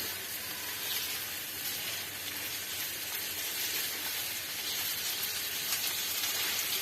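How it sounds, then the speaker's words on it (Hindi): Chicken fries in oil over a medium-high flame with a steady, close, bright sizzle and crackle that runs unbroken, with no voices. "अब मैं इसे बहुत अच्छे तरीके से फ्राई करने लगी हूँ।"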